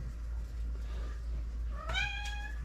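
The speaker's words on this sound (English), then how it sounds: "Hi, Mr. Kitty Cat" A cat lets out a single rising meow, near and clear, over a steady low background hum in a kitchen.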